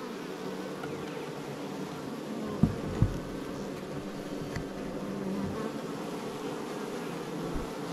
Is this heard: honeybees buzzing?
yes